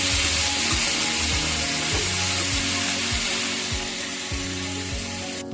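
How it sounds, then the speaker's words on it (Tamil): Soaked dried sundakkai vathal (turkey berry) frying in oil until golden for a clay-pot vatha kulambu, giving a steady, close sizzle with a low tonal hum underneath throughout. "வத்தலை நான் ஊற வச்சு எடுத்துக்கிட்டேன் வத்தலை பொன்னிறமாக வறுத்துக்கிட்டு"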